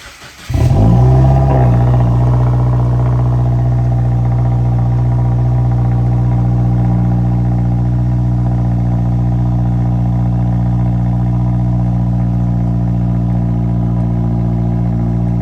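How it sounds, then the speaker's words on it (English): A 2021 Subaru WRX engine cold-starts with a brief crank, then settles into a loud, steady, elevated idle with a deep rumble that holds evenly to the end, close by and with no talking. "give you a cold start on the WRX"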